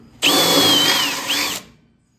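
A loud, steady power drill whine with a high squeal biting into sheet metal on a car firewall, running for over a second before winding down.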